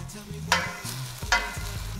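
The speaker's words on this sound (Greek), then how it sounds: "τσιγαρίζουμε ελαφρά το σκόρδο μαζί ναι. με το μαϊντανό" Garlic and parsley frying in oil in a pot give a steady, close sizzle, with two sharp bursts of stirring standing out above the hiss and no talk.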